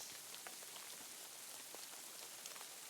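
Steady rain patters on surfaces in Kingdom Come: Deliverance II, a soft continuous hiss dotted with distinct droplet ticks, fairly quiet and with no voices.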